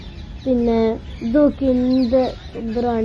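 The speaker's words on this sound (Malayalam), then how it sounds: "പക്ഷികളുടെ ഒച്ചയൊക്കെ വരുന്നുണ്ട്." Chickens cluck and call in the grounds of Gandhi's Sabarmati Ashram in Ahmedabad, Gujarat, close by and repeating in quick bursts. A person speaks softly under the calls.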